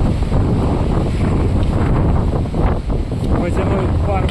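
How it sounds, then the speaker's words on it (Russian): Gusty wind roars through Amanauz gorge in Dombay, buffeting the microphone in a loud, constant rush with slight surges, while a person breathes and speaks close by. "Ветер дует в лицо."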